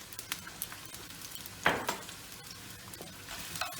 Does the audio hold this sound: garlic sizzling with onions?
yes